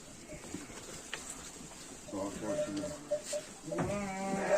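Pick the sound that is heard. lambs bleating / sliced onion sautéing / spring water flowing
lambs bleating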